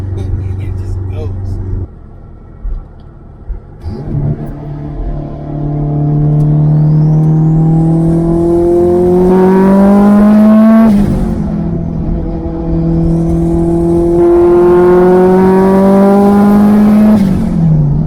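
A Honda H22 car fitted with a stage 5 clutch drives and revs loudly up close, engine pitch climbing in two long sweeping pulls with a drop and gear change between them.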